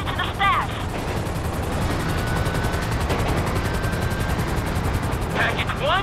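Helicopter rotor thump from two choppers in GTA V, loud and steady under bursts of gunfire and chirping sweeps, with a voice calling out in the mix.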